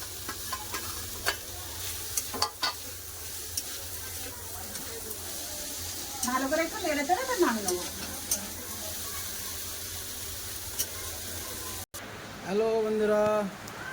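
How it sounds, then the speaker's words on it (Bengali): Pumpkin sizzles and hisses steadily in a hot pan as onion and green chilli are added, with occasional stirring scrapes and a brief voice near the end. "কুমড়া আলু ভাজা কুমড়ো উচ্ছা ভাজাই গেছে এবার দিয়ে দেবো পেঁয়াজ আর কাঁচা লঙ্কা"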